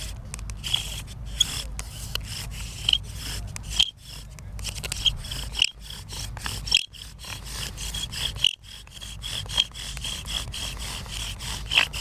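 Rhythmic rasping and squeaking of a wooden bow drill rubbing on wood, repeating back and forth in steady strokes, close and fairly loud.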